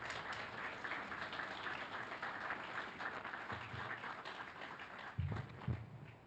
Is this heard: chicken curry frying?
no